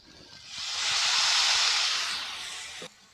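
Dhekia saag greens are dropped into a pan of hot oil with fried ground spices, setting off a loud hissing sizzle that swells, holds for a couple of seconds, then eases and cuts off abruptly near the end.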